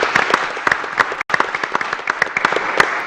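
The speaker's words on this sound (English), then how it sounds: "let us give her a round of applause for the lovely 9/11 ceremony" Audience at a city commission meeting applauds, a close, moderately loud patter of scattered clapping hands with a brief gap in the middle.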